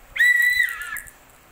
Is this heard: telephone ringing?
no